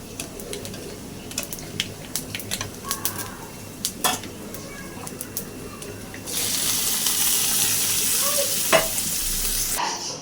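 Cumin and black cumin seeds crackle in hot oil, with scattered sharp pops at first, then a sudden loud, steady sizzle takes over for the last few seconds, close by and unaccompanied by talk.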